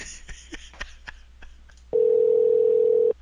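A landline telephone after the other party hangs up: a few soft clicks and knocks, then a steady, loud continuous tone that runs for about a second before cutting off.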